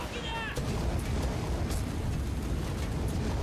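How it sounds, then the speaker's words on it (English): Flamethrower firing in Payday 2, heard as a sustained, dense roaring whoosh that holds steady at high volume for several seconds, with a brief rising whistle near the start. "Who needs flashbangs if you have flamethrower?"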